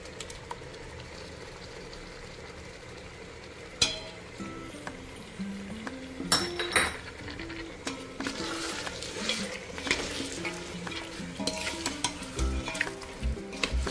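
Mutton is stirred with whisked yogurt in a pot, a soft sizzle running under repeated scraping and clinking of a spoon against the metal. The stirring gets busier and louder after the first few seconds.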